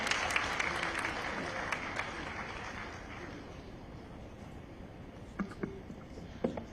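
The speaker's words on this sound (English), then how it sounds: "We clap, ladies and gentlemen," A conference crowd at a Ugandan tax policy event applauds to welcome the Prime Minister, with dense clapping filling the room for the first few seconds before it thins into scattered claps and room murmur.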